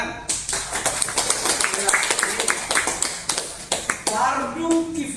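A class of students clapping during a lesson on funeral preparation, a scattered rhythm of close hand claps and taps that ripple on for several seconds, with a voice speaking briefly over them.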